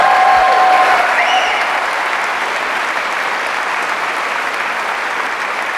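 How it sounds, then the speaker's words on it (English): An audience at a school district address gives a round of applause for a middle school drumline, with loud, continuous crowd clapping that stays steady and full from start to finish. "Let's give another round of applause to the Clark Middle School Drumline."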